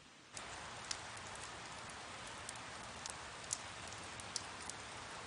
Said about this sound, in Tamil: எனக்கு மழைன்னா ரொம்பவே பிடிக்கும்.